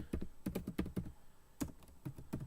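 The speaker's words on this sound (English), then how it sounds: "Let me just type this in real quick." Quick bursts of typing on a computer keyboard, clear close-up key clicks in an irregular rhythm with a short pause midway, and no voices over them.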